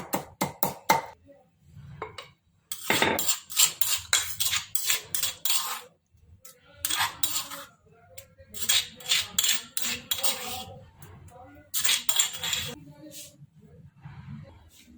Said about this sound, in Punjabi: ਹੁਣ ਆਪਾਂ ਭਾਂਡੇ ਚ ਕੱਢ ਲਵਾਂ